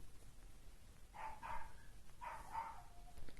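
A small dog gives two faint, distant double barks or yips, about a second apart, over a quiet background hiss.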